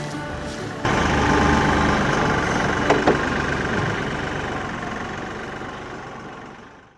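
A tractor engine kicks up after a quieter start and runs steadily at a loud, close rumble, with a couple of brief clanks, then slowly fades away.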